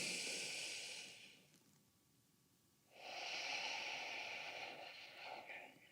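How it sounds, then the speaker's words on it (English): Deep yoga breath in a vinyasa flow, a soft airy rush of air through the nose, heard twice with a quiet pause between, close and gentle. "Inhale here."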